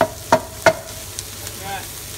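Crustless quiche filling being mixed and spread around a pan, with three sharp scraping knocks of a utensil early on followed by a faint, steady background hiss and occasional soft taps.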